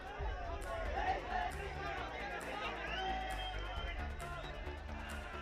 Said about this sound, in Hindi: मनोहर लाल को इंसाफ और आरोपियों को फांसी के लिए चंबा के कीहोर थाने के बाहर भीड़ ने नारेबाजी शुरू कर दी।